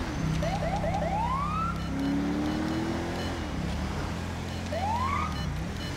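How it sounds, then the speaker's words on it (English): A Federal Signal Delta police siren in Grand Theft Auto V sweeps through rapid rising yelps, then a longer wail, over a constant engine rumble, with another rising sweep near the end. "Still using the same siren too, guys, the Federal Signal Delta"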